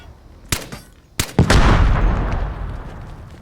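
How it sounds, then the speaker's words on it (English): Contact bombs fired in the shooter game Vigor: two sharp close shots land about half a second apart, then a heavy booming blast rolls out and rumbles away loudly for nearly two seconds. "I got to shoot these contact bombs"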